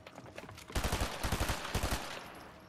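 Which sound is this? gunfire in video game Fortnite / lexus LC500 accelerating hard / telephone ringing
gunfire in video game Fortnite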